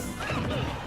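A heavy forward smash lands in a Super Smash Bros. match, a single loud, short crashing whack with a brief tonal ring, close and alone.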